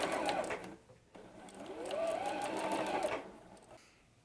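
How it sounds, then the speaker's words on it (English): A sewing machine stitches a quarter-inch seam through quilting fabric, running in steady whirring bursts with a short pause between, fairly quiet and close. "We're going to go ahead and we'll sew that straight on there."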